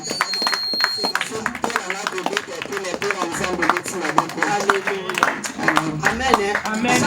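A church congregation at an evangelical Sunday service claps and applauds steadily in a busy, lively burst, with voices mixed in among the clapping.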